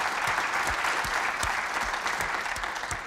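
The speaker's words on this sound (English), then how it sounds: "And a round of applause." A crowd applauds after a presentation on overcoming organizational obstacles to lean, a full, steady burst of clapping that carries on through the whole three seconds.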